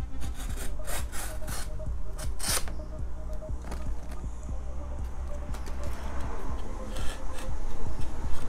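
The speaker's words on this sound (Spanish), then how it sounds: "Así tiene que cortar un formón." A freshly sharpened wood chisel shaves wood with steady rasping, scraping strokes in a continuous rhythm, close and fairly loud, with no talk.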